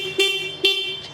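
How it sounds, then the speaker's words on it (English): Two short, close, loud honks from the high-pitched horn of a small CFMOTO XO-2 Papio Trail motorcycle. "horn check for the CFMOTO XO Papio Trail"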